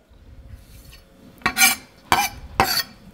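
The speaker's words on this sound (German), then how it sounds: "Also wir hacken das jetzt hier mal so grob runter." A knife chops seafood coarsely on a cutting board in a kitchen, three loud separate strikes after a quiet start.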